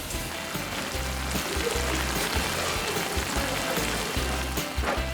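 A steady, crackling bubble of a kimchi stew with saury and aged kimchi simmering close by, with a low rhythmic gurgle pulsing underneath throughout; no voices.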